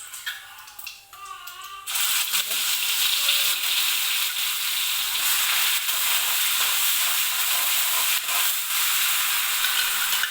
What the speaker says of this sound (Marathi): कांदा छान आपल्याला भाजून घ्यायचा आहे